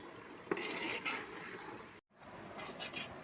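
Ginger-garlic paste and turmeric are stirred in a vessel while making mango pickle, a soft continuous scraping and mixing sound that is faint and cuts out briefly partway through before resuming.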